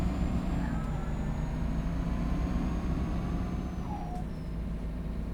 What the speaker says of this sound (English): so that you just don't get a gearbox noise at all